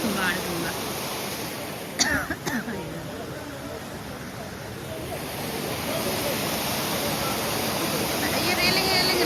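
The Baan Ganga river at Vaishno Devi rushes past in a steady broadband roar, loud and close, with a brief knock near the start and the flow swelling slightly toward the end.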